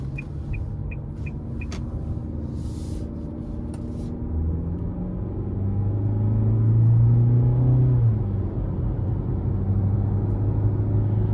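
A 2023 Nissan Altima 2.5 SL AWD with the 2.5-liter engine drives on the road, giving a steady low cabin drone of engine and tire rumble that swells mid-drive, with a few faint quick clicks at the start and no talking.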